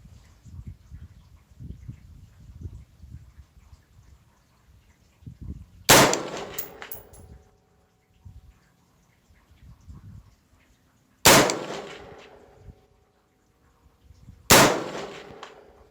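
A rifle fires at targets out to 200 yards: three sharp, loud cracks spaced several seconds apart, each with a short ringing decay, over a quiet outdoor background with low rumbling.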